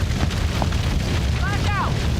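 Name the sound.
grenade explosion in a video game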